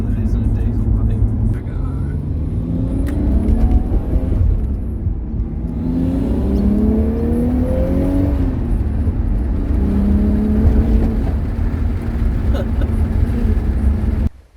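A manual Nissan Skyline R33 with an RB25DET engine drives along, its loud cabin drone rising and falling steadily as it climbs through the gears.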